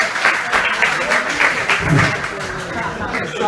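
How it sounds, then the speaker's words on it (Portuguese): A congregation at a church service bursts into applause, steady rhythmic clapping from a crowd sustained for a few seconds, with a voice talking over it. "Uma salva de palmas para Inex."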